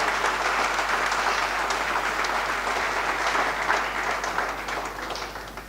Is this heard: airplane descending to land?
no